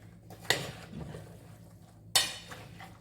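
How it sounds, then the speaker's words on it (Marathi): A spoon stirs hot mixed vegetables for Maharashtrian bhogichi bhaji, with two distinct metallic clinks against the pot and soft scraping and shuffling between them. "हे गरम असल्यामुळे चमच्याच्या साह्याने असे वर खाली करून घ्यायची"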